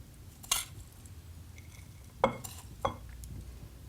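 Spoonfuls of bacon and parsley grummel landing on Portavogie clams, three soft clinks of a spoon against a dish spaced apart over a quiet kitchen background.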